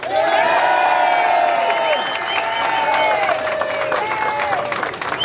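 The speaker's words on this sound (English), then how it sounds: "give a round of applause and welcome our Congressman, Mr. Joe Baca" A rally crowd in Riverside, California claps and cheers to welcome Congressman Joe Baca, loud continuous applause with whistles and shouts rising above it throughout.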